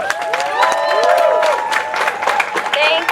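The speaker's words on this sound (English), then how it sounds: "Guys, let's give her a round of applause once again." An audience applauds and cheers for the speaker Noor at a solidarity rally for refugees and immigrants. The clapping is loud and sustained, with voices calling out over the crowd.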